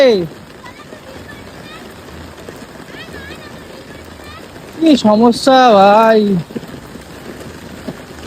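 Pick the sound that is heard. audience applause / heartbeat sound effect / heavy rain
heavy rain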